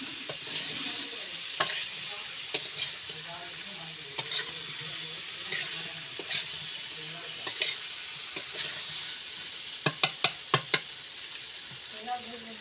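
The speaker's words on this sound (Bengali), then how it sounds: "ঝিঙে দিয়ে আমি এইভাবে ভালো করে কষিয়ে নেব।" Ridge gourd stir-fries with river fish in a hot pan, a steady sizzle broken by spatula scrapes and knocks that cluster into a quick run near the end.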